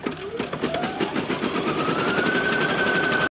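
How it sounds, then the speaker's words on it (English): An embroidery machine stitching a red satin stitch runs with a fast, steady mechanical needle rattle and a rising motor whine, loud and close, without speech. "we will just stitch that off. And we'll come back when it's done stitching the red satin stitch"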